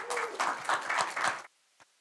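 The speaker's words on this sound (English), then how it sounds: "please give Drew a warm round of applause" A short burst of applause from a screening audience breaks off abruptly after about a second and a half, leaving one last stray clap.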